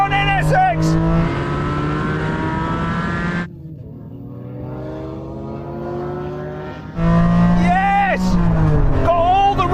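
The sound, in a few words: Honda NSX race car launching and accelerating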